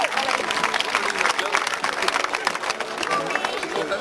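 Crowd at a history festival cheering and applauding army reenactors, a steady wash of clapping and excited chatter, fairly loud, with voices mixed in throughout.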